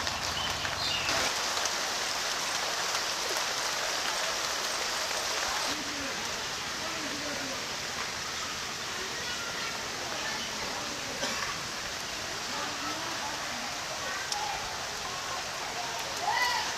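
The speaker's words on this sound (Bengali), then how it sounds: "ছিপছিপ বৃষ্টি হচ্ছে" Light monsoon rain falls steadily outdoors, a dense, even patter that continues throughout, with a voice speaking faintly now and then beneath it.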